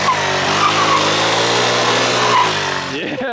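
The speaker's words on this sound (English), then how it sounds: "I want to try to get some people to do some burnouts." An 800-horsepower rear-wheel-drive Nissan Skyline holds a steady, loud high-revving engine roar with tire squeal throughout a burnout, close by and continuous, easing off at the end.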